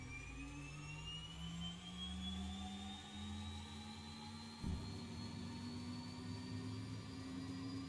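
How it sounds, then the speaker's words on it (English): Turboprop engine of a King Air C90B spooling up in X-Plane 12, a steady whine and rising tone with a low drone, the pitch of the propeller blades climbing smoothly, a brief clunk partway through, continuous and fairly loud. "that's how a turboprop starts up"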